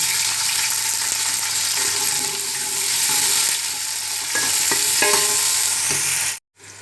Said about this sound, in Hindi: तो ऑयल गर्म हो चुका है। अब इसके अंदर प्याज डाल देते हैं।